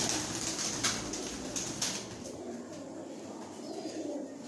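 A Rampuri pigeon and a large breeder hen coo in a breeding loft, a low, throaty burbling that carries on under steady background noise, broken by a few brief sharper sounds.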